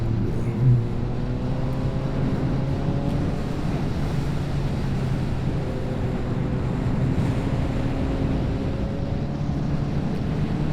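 Honda CB650R motorcycle climbing the Col du Glandon mountain pass, a steady engine drone with rising gear tones buried under heavy wind rush on the microphone.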